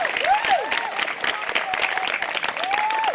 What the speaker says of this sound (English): I'd like everybody to give these guys a round of applause for all of the guys that were involved.